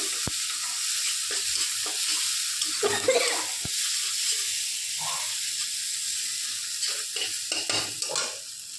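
Food sautéing in a pan, a constant hissing sizzle close up, broken by repeated scraping and stirring strokes and a couple of sharp clicks, with no speech.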